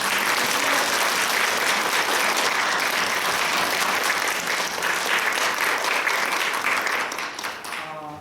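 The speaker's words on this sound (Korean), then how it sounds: "영광의 박수를 우리 모두 함께 올려드렸으면 좋겠습니다" Sustained applause from a church congregation during a Korean Presbyterian ordination service, a dense, steady wash of clapping that fills the room and holds loud before tapering off at the end.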